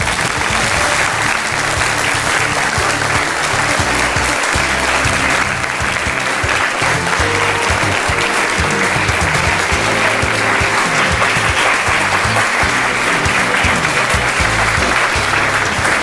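A studio audience at the Aap Ki Adalat television courtroom show breaks into sustained, loud applause, many hands clapping evenly and continuously for the whole stretch, with no clear speech over it.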